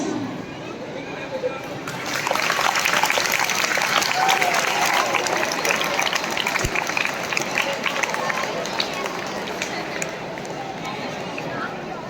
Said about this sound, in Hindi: There shall be a round of applause.